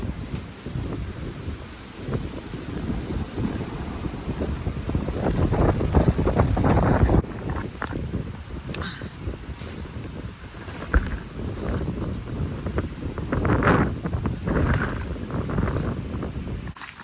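Strong storm wind buffets an outdoor centre, roaring gusts battering the microphone and rising and falling in loud surges over a constant windy rush, with no talking.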